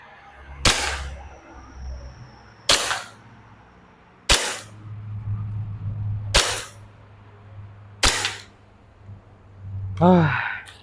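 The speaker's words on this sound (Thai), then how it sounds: "โอเคมาทดสอบยิงนะครับ เป้า 10เซนระยะ 15 เมตรก่อนเลย" An ICS BLE-XAE BB pistol test-fired at a 10 cm target from 15 meters, five sharp snapping shots spaced about two seconds apart, close and loud, with a soft exhaled sound at the end.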